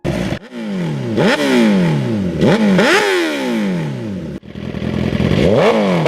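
A Suzuki superbike engine revs hard several times in a row, each loud rising wail snapping back down between blips, close by and with no voices.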